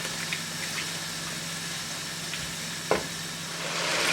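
Masala with tomatoes frying in oil in a pan, a steady close sizzle with a constant background hum, a brief stirring scrape near the end and no talking.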